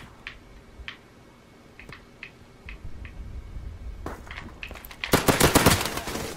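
Gunfire in Call of Duty Modern Warfare Remastered free-for-all match: faint scattered distant shots at first, then louder bursts and a sharp close volley near the end.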